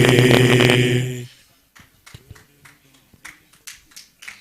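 An audience clapping in scattered, uneven bursts at a children's services event, a few separate hand claps and taps spaced apart, heard faintly after a loud sustained musical tone cuts off.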